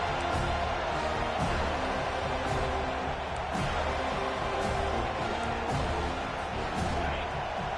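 A home crowd roars steadily in the NCAA 25 American football video game as the defense tries to get off the field on third down, a dense, continuous wall of cheering with scattered thumps.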